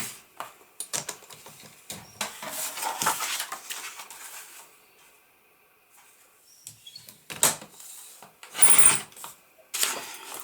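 Scissors or a trimmer cut card pieces for Christmas cards, giving close, dry rasping cuts in uneven bursts, with quiet pauses between strokes.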